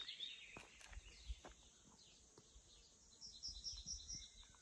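Nightingales singing outdoors in open countryside, faint high whistled phrases and chirps drifting in and out over a steady background of insects and breeze, with a few soft rustling footsteps nearby.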